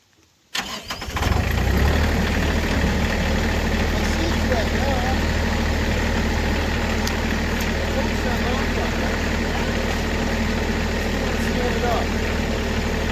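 A backhoe engine cranks and catches after a brief quiet start, then runs at a steady, loud mid-pitched idle for the rest of the clip, outdoors on hard ground.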